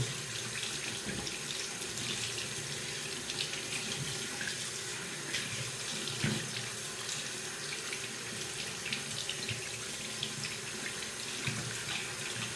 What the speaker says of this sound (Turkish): Sonra sıcak suyla, sıcak suyla yıkamanız en önemli kısmı için